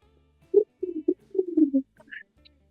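A voice imitates a pigeon's coo, a series of low, throaty warbling hoots in short bursts, close and clear, ending with a brief higher squeak.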